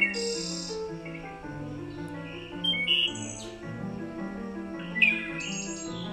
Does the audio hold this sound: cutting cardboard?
no